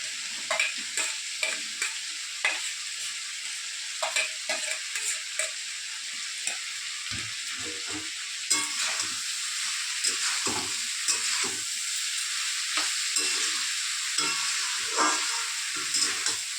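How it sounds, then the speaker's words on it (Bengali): Ginger-garlic masala paste frying with cauliflower stems in a pan, a constant hissing sizzle broken by repeated scraping strokes of a spatula, no talk. "আদা কুচি রসুন কুচি ওই মশলাটা দিয়ে দেবো এখন দিয়ে একটু কষাতে হবে"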